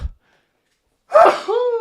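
A single sharp sneeze, preceded by a brief sound and silence, followed by a short voiced exhale.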